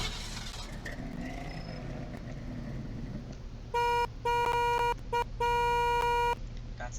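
A 1957 Chevlon Joile-Mode car in Vehicles of Greenville sounds its horn: a bright, steady electronic-style tone in four bursts, one short, two longer and one brief, after a few seconds of quiet engine idle.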